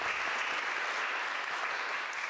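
Applause from a congregation at an interfaith gathering, a steady, dense wash of clapping that holds evenly for about two seconds with no voices on top.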